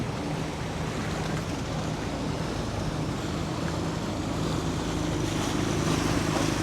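A coach's boat motoring on the sea, a broad continuous roar of engine, wind and water rushing past the microphone, steady and loud throughout with no voices.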